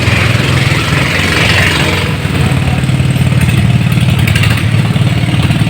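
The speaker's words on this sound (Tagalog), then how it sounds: "Lakas ng makina nito eh." A loud boat engine runs steadily throughout, a deep low rumble with a rough, throbbing idle and slight revving, close by with no talking, on a lake choked with thick water lilies.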